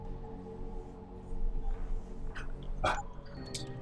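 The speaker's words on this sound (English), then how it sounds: "Such a pretty puppy." A puppy makes soft whimpers and short yips over low background hum, with a brighter sharp bark-like burst near the end; no speech.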